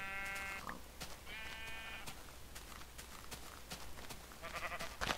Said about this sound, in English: sheep. What's wrong with you?